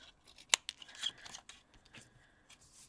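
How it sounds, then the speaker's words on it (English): Paper is cut with scissors in a quiet room, heard as faint snips and rustles with one sharper crisp cut. "Just cut them off there for now."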